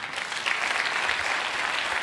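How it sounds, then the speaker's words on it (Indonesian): Steady applause from a crowd, dense and even, holding at a constant level throughout with no voices standing out. "Tepuk tangan, saudara."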